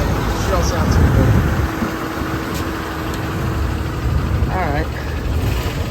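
A car engine idles roughly and unhealthily with a check engine light on, a steady mid-low rumble running throughout while someone speaks briefly over it.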